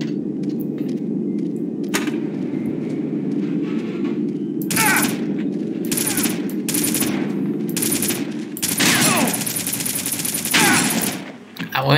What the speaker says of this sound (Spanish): te disparo un montón de balas y no me las recibes